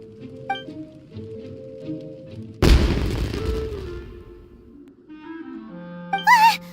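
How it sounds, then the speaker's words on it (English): A single loud firework explosion booms in the video game Genshin Impact, followed by a crackling decay, set against soft background music and ending with a brief whistling flourish. "It sounded like fireworks"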